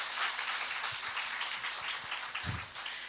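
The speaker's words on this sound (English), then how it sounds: "please give her a big round of applause." Applause from a conference audience at a hospital nursing education session, a steady, fairly distant wash of many hands clapping with no talk over it.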